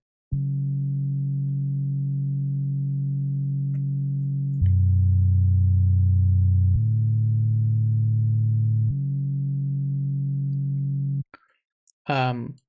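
A deep, muffled, low-passed synth bass from Serum holds long sustained notes, changing pitch a few times, followed by a brief burst of speech at the end.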